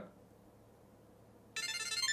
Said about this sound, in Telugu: సో ట్యాగ్ రింగ్ అవుతుంది చూసారు కదా